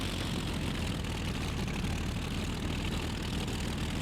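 Fighter plane engine in the IL-2 Sturmovik flight game, a Bf-109F preparing for takeoff: a steady, loud, continuous low drone with a broadband roar that holds even throughout, alone without talk.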